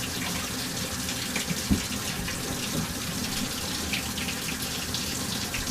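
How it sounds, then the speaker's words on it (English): Steady rush of cold running water from a tap through a water-change siphon hose, continuous and fairly close, with a faint gurgle and a small knock partway through. "just turn on some cold water, start the siphon running, and we'll drain our hose out."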